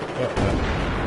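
Gunfire in Battlefield 4 multiplayer, a short burst of booming, rumbling shots and battle noise with a faint voice underneath.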